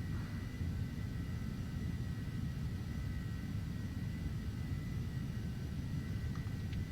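Carenado Phenom 300 business jet climbing out after takeoff in Prepar3D, gear retracting, a steady dense engine roar with a faint tonal whine, continuous and unbroken throughout.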